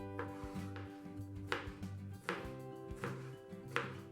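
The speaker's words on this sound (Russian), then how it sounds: "И еще нарезаем маринованные огурцы и зеленый лук." A knife chops pickled cucumbers and green onion on a board in steady, sharp taps, about two per second, close and clear over a faint background hum, with no voices.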